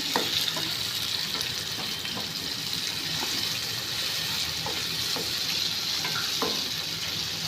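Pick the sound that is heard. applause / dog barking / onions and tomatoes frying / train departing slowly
onions and tomatoes frying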